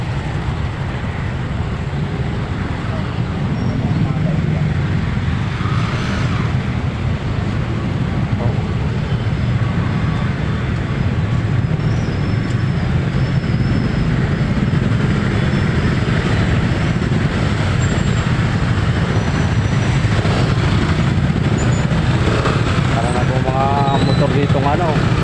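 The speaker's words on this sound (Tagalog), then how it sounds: "Ganyan po ang traffic dito, sobrang sobra." Heavy, congested road traffic packed with cars and motorcycles forms a steady, loud rumble of engines throughout, with someone talking over it.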